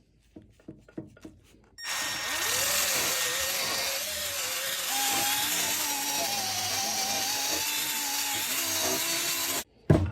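A power polisher works an old motorcycle exhaust with Mothers mag and aluminum polish, a steady whirring grind with wavering pitch held for several seconds after a few light taps, then cutting off.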